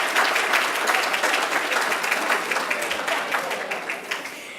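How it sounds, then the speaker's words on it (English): A full room of guests at an Atlanta club honorees gala gives a round of applause for honorees and presenters, loud continuous clapping with distinct individual claps sustained throughout. "Give a round of applause to all of our honorees and presenters"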